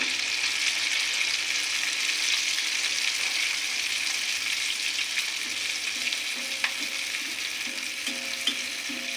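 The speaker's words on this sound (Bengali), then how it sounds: "আমি এভাবে সব পিঠা ভেজে নেব" Stuffed pitha cakes deep-fry in hot oil with a continuous, even sizzle and bubble that stays close and steady throughout. A couple of faint clicks sound from the pan.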